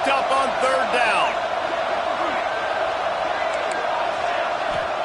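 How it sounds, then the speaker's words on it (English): Stadium crowd at a football game roaring steadily on third down to fire up the defense, a dense sustained wash of cheering and whoops, with a voice speaking over it at the start. "Crowd getting this defense whipped up on 3rd down"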